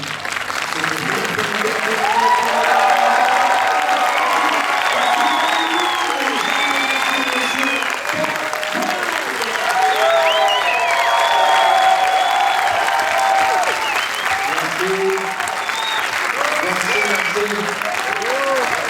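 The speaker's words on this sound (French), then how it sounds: "je veux vraiment un tonnerre d'applaudissements, s'il vous plaît" Sustained applause from a theatre audience at a film preview screening as the cast is welcomed on stage, dense and steady for the whole stretch, with cheering and crowd voices mixed in.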